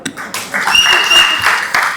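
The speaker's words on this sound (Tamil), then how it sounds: "சார் அவங்க வந்ததுல இருந்து கை தட்டிட்டு மட்டும் தான் சார் இருக்காங்க." An audience claps at a Tamil film pre-release event, a short burst of applause mixed with hall noise and a voice over it.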